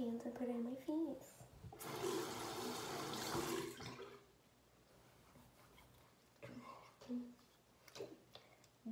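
Tap water runs into a sink as hands are wetted for face washing in a bathroom, a steady rushing burst of a couple of seconds, with a soft voice speaking before and after.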